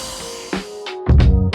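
A vacuum draws air out through a hose from a CarCapsule SC1 Series car cover in a garage, giving a steady motor hum with a louder surge of suction near the end.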